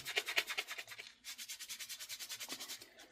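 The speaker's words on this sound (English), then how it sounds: "So let me just wipe off most of it here. Get all the goop out of it" Cloth wiping grease and goop off an old Frontier knife, a close, fast series of rhythmic rubbing strokes that pause briefly and then resume more evenly, with no talking.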